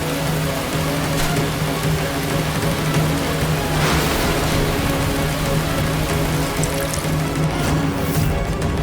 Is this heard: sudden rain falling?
yes